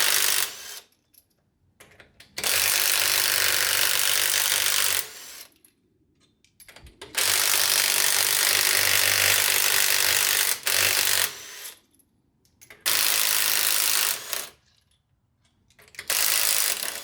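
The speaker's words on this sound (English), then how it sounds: "I'm going to use my key here to get these lug nuts off and to take the wheel off" Lug nuts being spun off a C5 Corvette wheel with a wheel lock key, a loud close mechanical ratcheting whir in three long bursts separated by short pauses.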